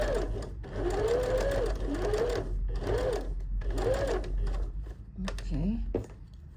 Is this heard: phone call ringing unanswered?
no